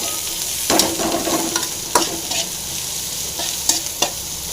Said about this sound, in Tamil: நல்லா ஃப்ரை ஆகட்டுங்க.